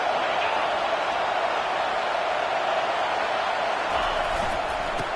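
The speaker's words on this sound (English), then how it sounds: "It is getting loud as this crowd tries to help its defense." A stadium crowd in the College Football 25 video game roars loudly behind the defense, a constant, unbroken swell of distant cheering that stays level from start to finish.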